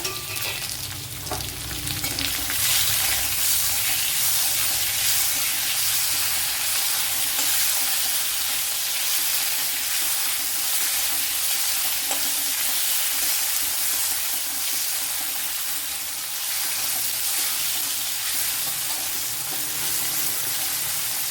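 A big chopped tomato, added with dried red chillies, fries in hot oil for an egg roast, giving a loud continuous sizzle with steady hiss and occasional stirring, close and without voices.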